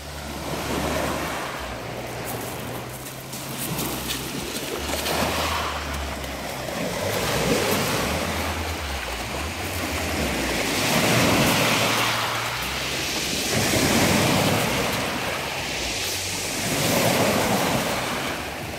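Sea waves roll onto the beach at Bovalino Marina in Italy, with a steady surf wash swelling and receding in long repeated surges. Gusting wind buffets the microphone throughout, and no voices are heard.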